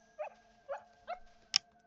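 A puppy in the video game Neva whimpers in three short soft yelps spaced evenly apart, then gives a sharper high yip, close and fairly quiet.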